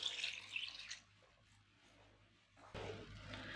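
Water poured into a bowl while a desi chicken dish is prepared, a short splashing pour at the start, then a quiet gap, then a second steady trickle near the end.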